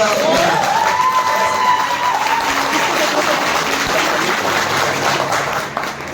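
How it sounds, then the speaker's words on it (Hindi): An audience at a poetry gathering breaks into loud, sustained applause and cheering that stays dense throughout. A voice is heard faintly under the clapping. "एक बार जोरदार तालियां बजा रहा हूं"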